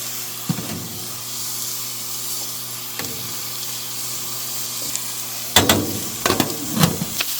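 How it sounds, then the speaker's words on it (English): Oil, about one and a half cups, heats in a pan or griddle ahead of frying 90-10 ground pork for egg foo young, giving a steady faint sizzle and hiss with a few brief clatters near the end; no talking. "here I have some oil just heating up"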